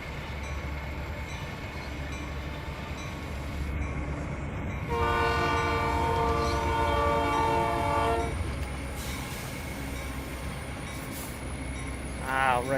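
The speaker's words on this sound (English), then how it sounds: "I did hear a train." In a truck-driving game with a W900 diesel rig, a passing train sounds a loud multi-tone horn for about three seconds over the continuous rumble of rolling rail cars, then a second short horn blast near the end.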